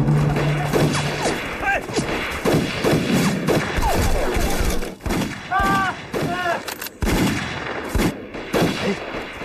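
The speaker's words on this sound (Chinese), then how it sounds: "那边院子怎么有枪声啊" Gunfire breaks out in a Chinese war film about sniper duels against Japanese troops, with sharp cracks and bursts scattered across the scene, mixed with loud effects and shouting voices.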